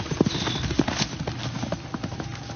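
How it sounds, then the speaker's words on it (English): Horses' hooves clip-clop in an uneven, hurried rhythm as the animals run off, with a faint whinny in the background. "A woman was looking after her horses when they suddenly started running away"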